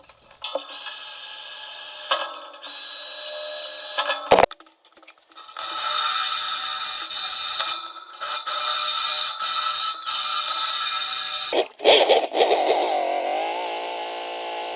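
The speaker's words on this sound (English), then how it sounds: "Soon after I started drilling the holes for the mounting plates" A power drill whirs at a steady high pitch in long runs, broken by brief stops, clanks and a short squealing bite into metal while drilling holes in steel mounting plates for a railing.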